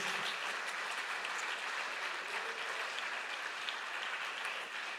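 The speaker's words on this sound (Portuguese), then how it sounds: "Nós vamos aplaudir o Senhor por ele." A church congregation claps steadily and evenly throughout, a sustained round of applause filling the space.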